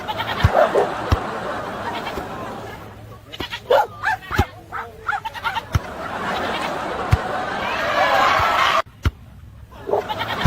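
A goat in an AI-generated clip bleats several times in short, loud bursts among barking dogs and a noisy outdoor background of thuds and shouting over about ten seconds.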